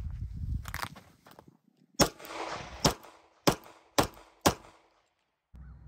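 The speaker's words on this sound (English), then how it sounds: "the first thing we're going to do is shoot the target where there are no impacts" Five sharp 9mm pistol shots at a paint-covered steel target, spaced roughly half a second to a second apart, each a loud crack with a brief ringing tail, preceded by quieter handling noise and footsteps.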